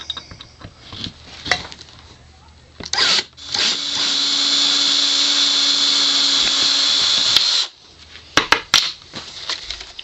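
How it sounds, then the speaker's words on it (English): Power drill boring into a case as part of a PWM case build, a steady loud whine lasting about four seconds, framed by short bursts of drilling and handling clatter, with no talking. "Finish drilling it."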